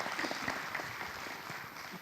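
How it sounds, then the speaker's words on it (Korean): Audience applause at the opening ceremony of an academic conference on smart water grids, a soft, dense patter of many hands clapping, heard from a distance and fairly faint throughout. "큰 박수 부탁드리겠습니다."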